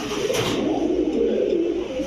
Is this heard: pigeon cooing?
yes